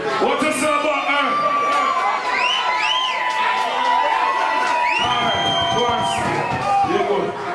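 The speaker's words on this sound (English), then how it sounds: "Give him a round of applause." A crowd at a Halloween costume contest dance with Stone Love and Justice Sound, cheering, whooping and shouting loudly and continuously, with voices talking through the noise.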